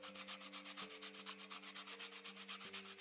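Wooden toy being sanded in Toy Tinker Simulator, a steady back-and-forth rasping scrape repeating in quick, even strokes over a sustained musical drone, no voices.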